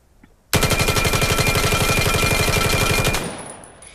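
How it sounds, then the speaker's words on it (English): Rapid automatic gunfire from the Grot B rifle in the shooter game Vail, a fast continuous burst of about two and a half seconds that stops abruptly, loud and close, followed by a brief mechanical tail. "It is an automatic, and it's really fast shooting, and it does a whole bunch of damage"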